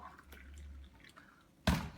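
Hot water, around 80 degrees C, poured from a kettle into a cup while brewing AeroPress coffee, heard as a sudden close splashing pour near the end after a quiet stretch of soft drips.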